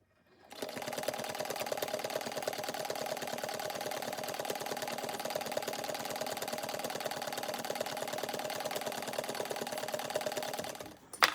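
A sewing machine runs steadily, stitching across a fabric strap with a fast, even mechanical rhythm for about ten seconds. It sounds close and fairly quiet, starts abruptly and stops at the end.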